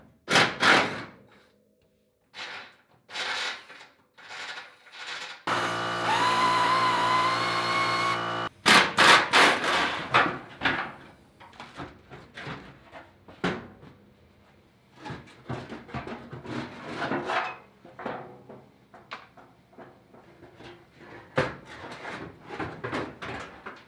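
Fender liners are pried and wrestled out of the wheel wells of a Chevrolet C10 truck during disassembly. Irregular plastic thumps, knocks and scraping bursts are broken up by a few seconds of steady whirring, all close by with quiet gaps between.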